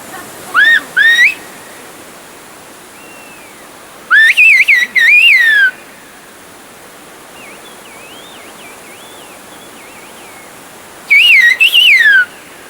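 Whistled language exchanged between villagers over the roar of a river, sharp gliding whistled phrases in three bursts, one quieter and more distant in between, above a constant rushing water background.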